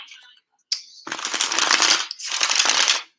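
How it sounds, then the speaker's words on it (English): Tarot cards being shuffled close by: a short flick, then two quick riffling bursts of papery fluttering, each about a second long with a brief pause between. "Ooh, that was a nice shuffle."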